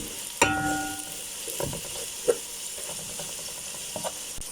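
Mixed masala fries in a pan, giving a continuous close sizzle with a sharp clink near the start and a few scrapes and taps as it is stirred.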